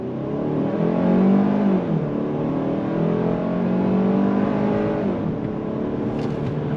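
A 2025 Kia K5 EX's 2.5-liter engine hums and rises in pitch under throttle from inside the cabin, climbing through two gear changes in a smooth, moderately loud drone; no voices.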